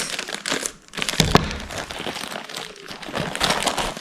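Paper crinkles and crackles as it is handled and unwrapped while unboxing a DJI Osmo Pocket 3 camera, with a sharp crumple burst near the middle and rustling throughout.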